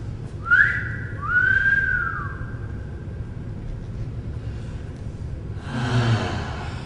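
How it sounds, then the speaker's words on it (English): Two whistled notes, the first a quick upward slide and the second a longer held tone, followed by a brief breathy rush of air. "All you have to do is whistle."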